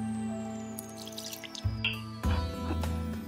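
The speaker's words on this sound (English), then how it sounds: "it takes 7 tablespoons of water" Tablespoons of water poured into a bowl for naan dough, with small quiet splashes and drips in a few short bursts and no talking.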